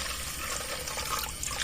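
Water is poured into a cooking pot at night in a field during a harvest, a short splashing trickle that stays close and steady.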